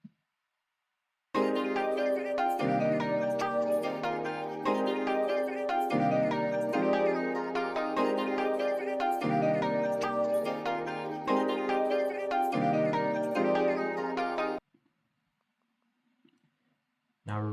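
Full melody of a beat with a chopped vocal layered in, playing as dense repeating chordal phrases for about thirteen seconds before cutting off abruptly to near silence.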